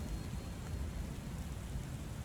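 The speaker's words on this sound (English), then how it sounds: "we're outside as we hear the rain" Steady rain falling outdoors in the game Book of Hours, a continuous dense hiss with low rumbling underneath, even and unbroken throughout.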